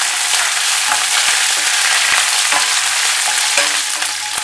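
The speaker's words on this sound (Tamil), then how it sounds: "அப்புறம் எண்ணெயில் வந்து கொத்தமல்லி சேர்த்துக்குவேன்." Coriander and curry leaves frying in hot oil, a loud constant crackling sizzle with a few light stirring clicks, heard alone.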